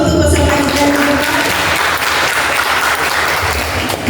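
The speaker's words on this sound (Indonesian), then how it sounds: "aplaus dulu untuk peserta kita" Sustained applause fills a quiz final hall for the contestants, a dense, loud wash of clapping from a large audience holding steady for about four seconds.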